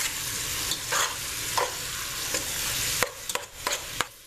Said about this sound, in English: I like to overcook my ground beef and sweet Italian sausages a little bit.